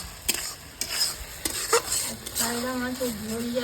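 Tomatoes fry with onions in a pan, sizzling steadily while a spatula scrapes and knocks against the metal in irregular strokes; a voice speaks over the cooking toward the end.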